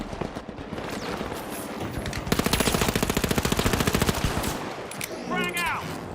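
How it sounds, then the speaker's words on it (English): Mac 10 SMG fired in the video game The Finals, a fast rhythmic burst of closely spaced shots lasting about two seconds amid other game noise, followed by a voice speaking. "It's the shitty SMG you start with."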